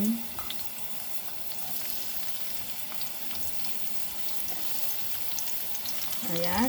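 Garlic and onion fry together in a hot pan, giving a steady, close hiss and sizzle throughout, with a voice heard briefly at the start and end.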